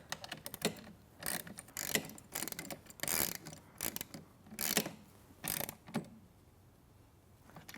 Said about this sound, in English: So I'm going to tighten the other nylock nuts that are sticking up